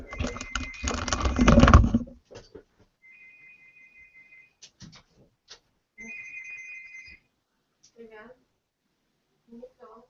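A telephone rings during a pair-programming session, two steady electronic tones separated by a gap, faint and interleaved with brief speech and clicks.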